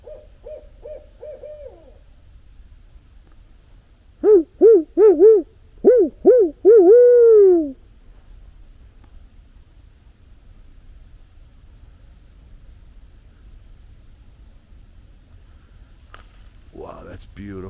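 Two barred owls hoot in the woods: a short call first, then a loud run of rising, wavering hoots close by before fading to quiet background noise, with a brief voice near the end.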